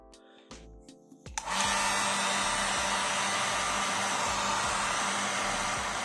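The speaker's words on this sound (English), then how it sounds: "let me increase the temperature with the dryer" A hair dryer switches on and blows steadily and loudly to heat a temperature sensor for an ESP32 home-automation setup, with a few clicks and brief handling noises before the continuous whoosh takes over.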